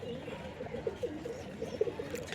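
Domestic pigeons, a native local breed, coo in soft repeated low pulses close by, with faint chirps in the background and no talking.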